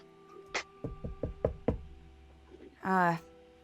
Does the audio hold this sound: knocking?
yes